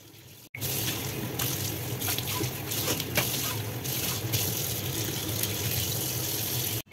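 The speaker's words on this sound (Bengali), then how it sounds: "বেসিনটাকে ভালো করে আমি পরিষ্কার করে নিচ্ছি" Tap water gushing steadily into a sink basin being rinsed clean after washing fish, a continuous close splashing rush that starts abruptly and cuts off at the end, with no talk over it.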